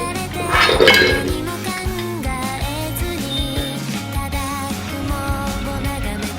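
Crispy fried rice-flour puli are lifted out of a frying pan: a metal utensil clinks and scrapes against the pan, with a louder burst of clatter early on, then lighter, irregular taps.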